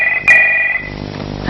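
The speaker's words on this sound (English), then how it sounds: "That's the phone." A telephone rings in a short, loud electronic trill at close range, with a brief bright burst near its start, then fades into a quiet room tone.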